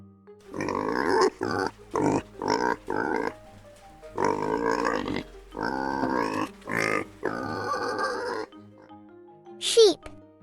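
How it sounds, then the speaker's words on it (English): A farm pig oinks and grunts in a string of short, loud, voiced bursts with brief gaps between them, ending with a sharper squeal-like note near the end. "pig."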